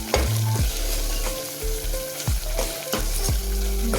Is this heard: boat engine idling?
no